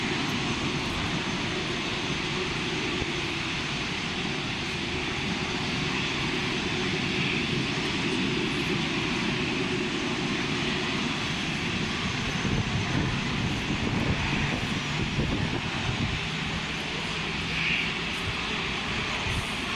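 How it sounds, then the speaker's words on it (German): An Etihad airliner taxis at Düsseldorf Airport, a steady, continuous jet engine roar with broadband rumble holding at an even level for about twenty seconds, with no speech over it. "die Etihad wird jetzt hier runterrollen und an C01 gehen"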